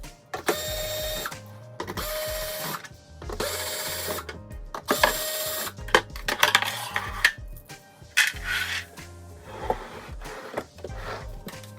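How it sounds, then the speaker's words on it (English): Phillips screws are unscrewed from an EcoAir EPD170LGR dehumidifier casing with a screwdriver, producing close, whirring, ratcheting bursts separated by short gaps, then lighter clicks and handling noises. "Luckily, all of these are also Phillips screws, so you can very easily unscrew them."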